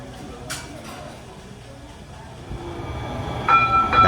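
Passenger train ride toward a convention center in San Jose, with a steady low rumble of the rail car rolling along, a brief brighter burst early on and a rising tonal squeal near the end.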